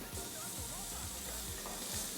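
Burger patty searing in a hot pan, giving a steady broadband sizzle and hiss with faint low scraping underneath, quiet and continuous throughout with no talk.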